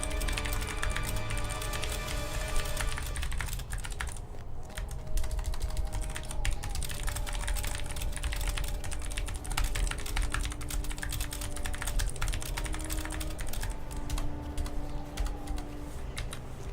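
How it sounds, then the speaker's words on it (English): Typing on a computer keyboard during a Lord of the Rings Online gaming session, a continuous stream of close key clicks and taps over about seventeen seconds, with no speech. "Sorry, I was typing"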